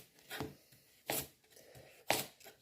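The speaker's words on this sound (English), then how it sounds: "So all I'm doing is cutting up the carrots nice and roughly" A knife roughly chopping carrots on a cutting board: three distinct, fairly quiet chops spaced about a second apart, with faint board scraping in between.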